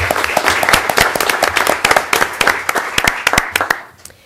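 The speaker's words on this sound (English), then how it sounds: "a round of applause" Steady applause for staff members at a school board meeting, a room of people clapping continuously for several seconds before trailing off.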